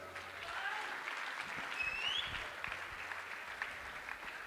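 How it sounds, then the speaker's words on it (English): Audience applause for performers at a stage craft show, a steady broad wash of clapping that holds at a moderate level throughout, with faint whistles rising briefly near the middle. "Could we please have one more huge round of applause for all the performers?"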